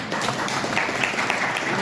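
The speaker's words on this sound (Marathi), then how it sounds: "एकदा जोरदार टाळ्या." Audience applause at a public gathering, a brief dense round of clapping from a crowd, steady and fairly loud.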